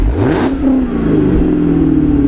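A sports car engine roars loudly as it revs sharply with exhaust flaps open in track mode, then settles into a deep, rumbling idle close by.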